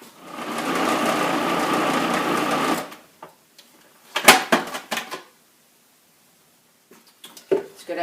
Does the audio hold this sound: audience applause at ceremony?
no